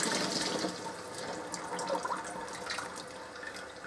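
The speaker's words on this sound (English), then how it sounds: "But right now, I'm just going to strain it through this." Homemade turkey stock poured through a strainer, a continuous close splashing, trickling rush of liquid that keeps running evenly for several seconds with no talking.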